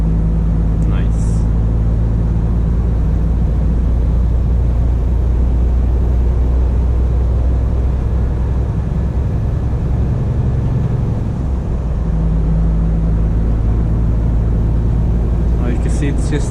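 A Scania G450 truck drives along a straight road at about 60 km/h in 11th gear. Its loud, steady low engine drone and road rumble continue throughout from inside the cab.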